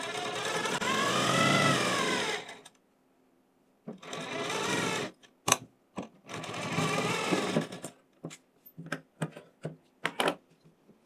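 A sewing machine stitches a Sabyasachi blouse in a tailor's shop, running in several bursts: two long steady runs separated by a pause, then a string of short stop-start stitches.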